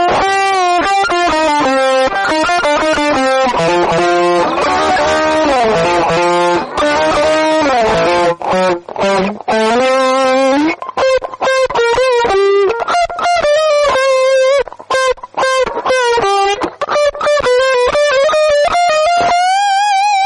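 A Burns Brian May Red Special electric guitar plays a sustained, warm solo through effects, with singing held notes and quicker melodic runs, loud and alone throughout.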